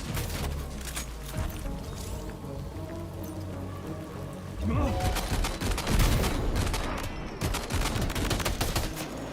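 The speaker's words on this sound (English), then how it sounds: "Equip machine gun." Machine gun fire in the video game Death Stranding 2, rapid broadband bursts rattling under a steady hiss, heaviest in the second half, with the shots clustered in fast strings.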